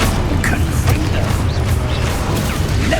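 A Confringo blast spell goes off in Hogwarts Legacy, heard as dense, continuous explosive crashing and rumbling throughout, loud and close, with spell and combat effects layered over a heavy low-end roar.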